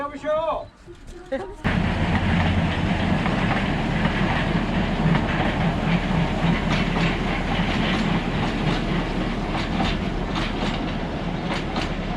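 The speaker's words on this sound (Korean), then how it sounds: "미니 기차여가지고 여기 한 바퀴 도는 거예요." A mini tourist train at Gokseong Train Village rumbles steadily along rails with a continuous clattering roll, close and loud, after a brief moment of voices at the start.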